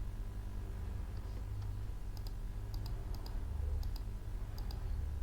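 Computer keyboard shortcut keys pressed while copying and pasting spreadsheet cells, a few light clicks scattered over a steady low hum, with no one speaking.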